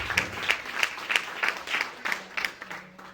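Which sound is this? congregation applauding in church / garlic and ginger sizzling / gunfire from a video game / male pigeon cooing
congregation applauding in church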